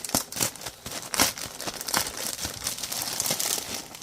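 A packed plastic thrift bag being cut open, giving close, busy crinkling and tearing rustles in uneven bursts throughout, with no talking.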